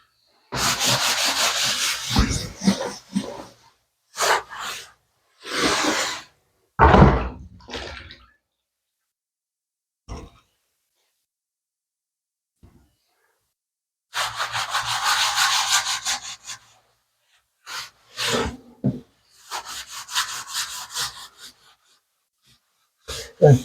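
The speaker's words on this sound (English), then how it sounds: "it's best to wipe on a 45, because that way you don't dig out the grout" A damp sponge wiping grout off ceramic tile, with loud close scrubbing strokes in clustered bursts and long quiet pauses between them.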